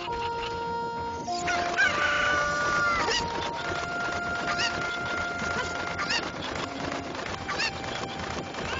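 A cucco chicken in The Legend of Zelda: Ocarina of Time crows and clucks in a burst of shrill game calls, followed by lighter intermittent chirps over quiet background music.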